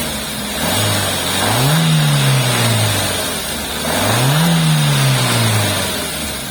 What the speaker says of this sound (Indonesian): So, kayak apa suara mesinnya? Yuk kita start up dulu.